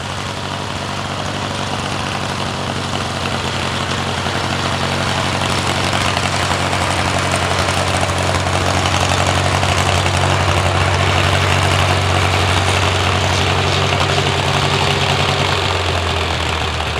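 The engine of a Craftsman GT6000 garden tractor fitted with a snow blade idles loud and close, a steady low rumbling drone that holds with no break and no talk.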